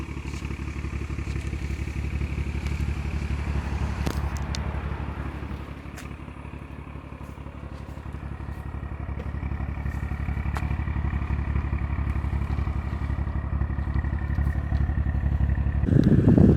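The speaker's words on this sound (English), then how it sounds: "God, I love the way this car sounds." BMW 135i engine and exhaust while driving at night under street lights, a steady low rumbling drone that holds close and loud throughout and swells near the end, with no talking.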